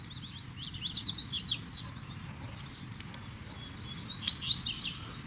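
A coleiro, the double-collared seedeater, sings outdoors in the brush, giving bright, rapid chirping phrases in repeated bursts over a low background rumble. No voices are heard.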